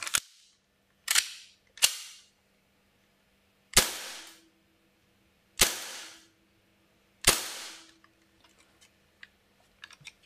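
Six sharp gas-blowback reports from a custom Hi-Capa airsoft pistol, fired singly at irregular intervals; each crack is loud and close with a short ringing decay, and no voices are heard.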